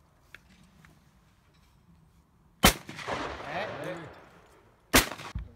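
Two sharp, loud shotgun blasts at a clay-target hunting course, the first followed by a rumbling echo and low talk, the second a close double report near the end.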